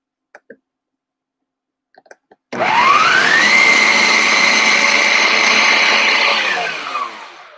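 A food processor chops beets. A few light clicks come before it, then a loud, steady motorized whir starts abruptly and runs with a slight pitch rise for about four seconds before winding down.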